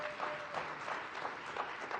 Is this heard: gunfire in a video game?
no